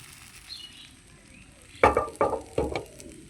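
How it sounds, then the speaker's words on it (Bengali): Semolina batter frying in a pan on a gas stove at low to medium heat, heard as three short, close sizzling bursts over a quiet background hiss. "গ্যাসের আঁচটাকে লো টু মিডিয়ামে করে এগুলোকে ভেজে নিতে হবে"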